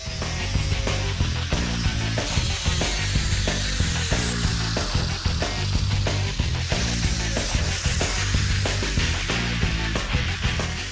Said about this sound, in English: we can start the trimming process, which begins with the wheel arch, since it's flared out